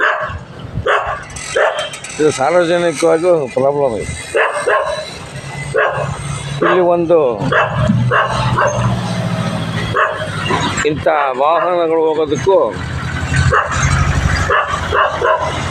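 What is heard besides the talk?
street dogs barking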